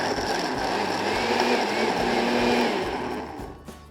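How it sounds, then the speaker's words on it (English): A kitchen blender grinds a fig and tomato salsa with lime juice, salt and pepper, giving a loud, steady, close whirring roar that fades out near the end. "and then I'm just going to grind it in the blender."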